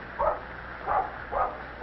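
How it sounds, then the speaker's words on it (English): A mother dog gives three short warning barks at a steady, evenly spaced rhythm, close to the listener and fairly clear, with a fourth bark starting at the very end. "Mother Mack barks a warning"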